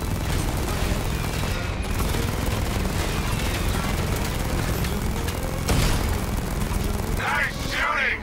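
Gunfire in the video game Batman: Arkham Knight comes as continuous bursts of rapid shots and booms layered over a dense game soundscape, with voices talking over the action.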